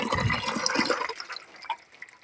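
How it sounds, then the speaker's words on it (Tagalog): Strong, unmetered water from a tap at a mountain home gushes loudly at first as a broad hiss, then cuts off and fades to faint drips and quiet background. "Napakalakas ng tubig"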